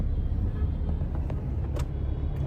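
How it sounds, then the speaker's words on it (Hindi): Continuous road traffic rumble in busy Mumbai streets, a dense low engine drone with faint higher passing sounds throughout. "हर जगह ट्रैफिक ही ट्रैफिक"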